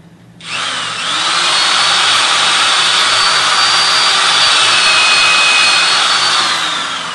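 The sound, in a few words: power drill drilling into wood composite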